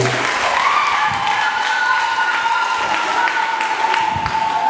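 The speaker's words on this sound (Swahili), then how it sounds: "Pigie Bwana makofi." A church congregation at a Christmas Eve vigil service claps along, giving a steady wash of many hands under sustained voices and music.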